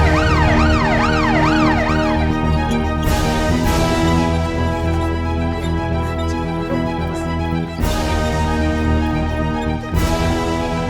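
An ambulance siren wails loud and close for about two seconds with a rapid up-and-down sweep, then gives way to dense, sustained tonal sound with sharp hits through the rest of an emergency scene in a Bhojpuri family drama.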